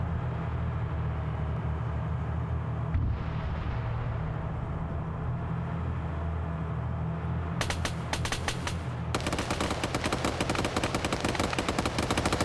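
Dense bursts of automatic gunfire from dismounted soldiers near an SPG-9 recoilless gun position in a military video game, loud and rapid over a constant low engine-like rumble, with the firing growing heavier in the second half.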